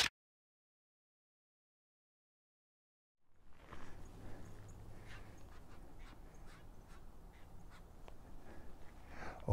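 A bird calls from a tree overhead in the autumn mountains at Big Bear, California. After a silent start, it gives repeated short, faint calls against quiet outdoor ambience.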